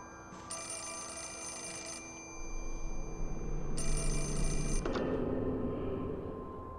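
Telephone ringing in the video game Fatal Frame: Mask of the Lunar Eclipse, two long electronic bell rings separated by a pause over a dark low rumble, moderately quiet.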